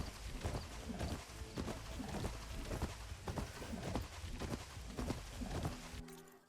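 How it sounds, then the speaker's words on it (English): Rhythmic hoofbeats of a horse in the video game Horizon Forbidden West moving at a steady pace, repeated thudding clip-clops over a dull background, fairly close, ending abruptly. "You're just like a really loud horse."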